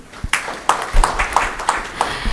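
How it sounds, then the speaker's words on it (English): Conference audience at a packaging industry conclave clapping in a loud, steady rhythm of about three claps per second, close and clear, with no voices over it. "So clap for all of you actually."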